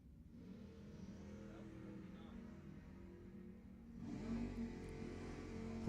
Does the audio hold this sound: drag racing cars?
yes